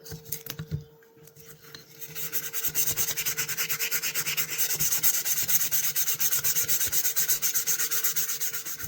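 A vintage fisherman knife being sanded with sandpaper gives a brief hesitant scrape, then a fast, steady back-and-forth rasp that continues rhythmically, close and fairly loud.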